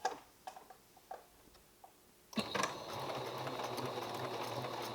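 A sewing machine doing free-motion embroidery starts up after a couple of seconds of faint clicks and handling, then runs in a steady, fast, close-up mechanical whir until the end.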